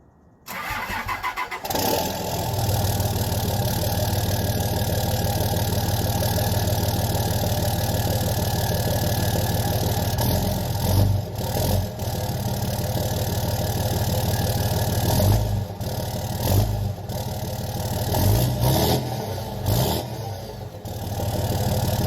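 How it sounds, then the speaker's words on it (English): A Gen 3 Ram Dually 5.9 Cummins turbo diesel pickup with a 5-inch exhaust starts up and settles into a steady, loud, deep idle that rumbles continuously, with a few brief throttle blips near the end. "I want you guys to hear how the 5-inch exhaust sounds on my truck."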